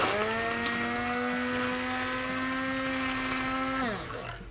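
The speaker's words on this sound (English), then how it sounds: "Meanwhile, I'm going to get my blender. This goes directly inside." A blender motor whirs at a high, steady whine for several seconds, blending keto tea ingredients, then slows and winds down near the end.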